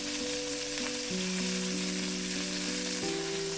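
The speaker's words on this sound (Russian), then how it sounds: "И обжариваем вторую сторону до такого же золотистого цвета" Chicken sizzles steadily in a hot pan, with a gentle musical tune playing underneath.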